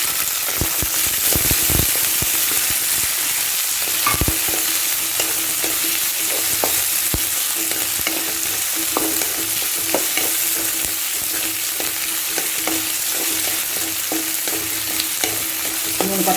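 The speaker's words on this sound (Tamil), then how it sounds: "பூண்டை வதக்கும் போது நம்ம வெங்காயத்தையும் போடுவோம்." Garlic and onions frying in a pan while being stirred, a dense, loud, steady sizzle with frequent sharp scrapes and taps of the spatula throughout.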